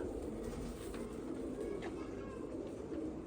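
A male pigeon coos repeatedly while chasing a female. The low, rolling coos sit over a steady background hum, and a voice is faintly present.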